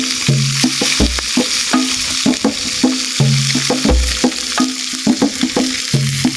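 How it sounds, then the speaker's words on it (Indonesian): River fish frying in hot oil, a steady loud sizzle beneath repeated clinks and scrapes of a utensil stirring in a pan, close and continuous with no talk. "Yang pertama aku goreng ikannya dan aku masukkan satu persatu sampai ikannya kelihatan"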